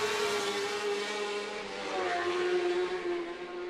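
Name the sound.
race car engines at Macau Grand Prix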